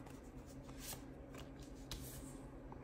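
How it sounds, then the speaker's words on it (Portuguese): Gypsy deck cards are shuffled and drawn close up in a quiet room, a few soft papery riffles and flicks over a faint steady hum. "Vou tirar três cartas para o Flamengo."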